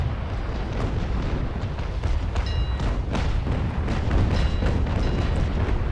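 Naval ship cannons firing during a large fleet battle in the Naval Action game, a steady barrage of booming blasts layered over a constant rumble of battle noise, with no talking.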